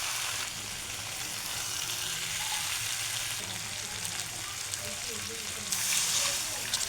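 Eggs being stirred into a Bengali egg curry with potato in a pan, a steady close sizzle and frying hiss running throughout with occasional soft scraping of the spoon and a brief louder burst near the end.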